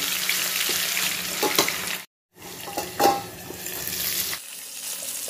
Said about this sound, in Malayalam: ഇനി ഇത് തന്നെ നമുക്ക് കുറച്ച് സൺഫ്ലവർ ഓയിലൊന്ന് ഫ്രൈ ചെയ്തെടുക്കാം